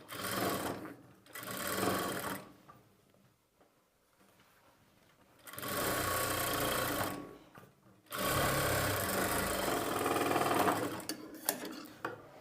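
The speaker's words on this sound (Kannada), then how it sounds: "ಆ ಸ್ಟಿಚ್ ಮೇಲೇ ಈ ಸ್ಟಿಚ್ನ ಕೂಡ ಹಾಕ್ಕೊಳ್ಬೇಕು" A sewing machine stitching thread piping onto a square neckline runs in three long bursts of rapid, steady mechanical whirring, separated by quiet pauses and small handling clicks.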